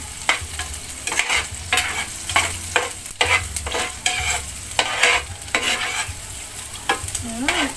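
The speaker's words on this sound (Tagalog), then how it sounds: "Unahin muna natin ang sibuyas. Hintayin hanggang maging color brown." Onion sautéing in a pan until brown, a continuous bright sizzle broken by repeated rhythmic scraping strokes of a spatula stirring, close and fairly loud with no talk.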